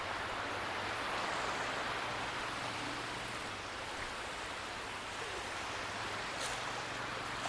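Steady broadband wash of sea waves at Varsoli Beach in Alibag, a continuous even roar with no distinct breaks, heard alone without talk.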